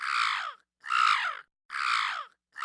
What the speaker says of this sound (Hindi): वापस आने पर कौवा अपना अंडा न पाकर फिर से रोने लगता है।